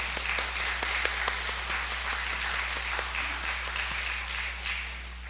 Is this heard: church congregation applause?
yes